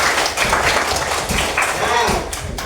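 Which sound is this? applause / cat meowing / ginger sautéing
applause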